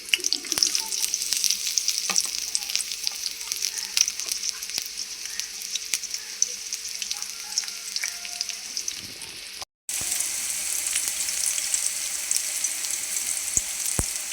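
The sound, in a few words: onions frying in hot oil in a wok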